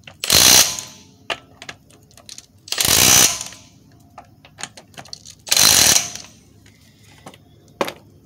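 A ratchet wrench tightens lug nuts on a Honda wheel, making three loud bursts of rapid, buzzing clicks close by, with lighter scattered clanks and taps between them.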